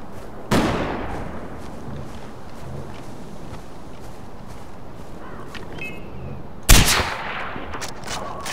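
Two sharp gunshots in the Far Cry 4 video game, several seconds apart, each cracking loudly over a constant ambient bed.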